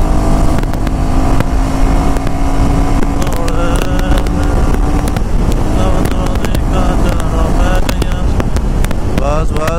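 A Royal Enfield Himalayan 450 motorcycle cruising at speed on a wide eight-lane highway, its steady engine drone buried in loud, continuous wind roar and buffeting against the microphone.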